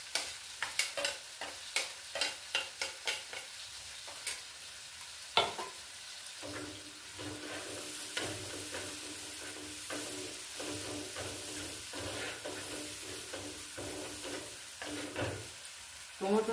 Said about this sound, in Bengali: কাঁচা লঙ্কা বাটাটা দিচ্ছি